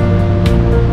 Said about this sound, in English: They're pretty big waves.